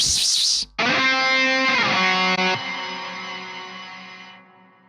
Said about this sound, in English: You can hear how the reverb is very fizzy if I don't filter the high end out of it.